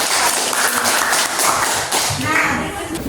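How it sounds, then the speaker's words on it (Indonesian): A classroom group claps hands together, a dense steady patter of applause that fills the room, with children's voices mixed in and talk rising near the end. "Tepuk tangan dulu dong."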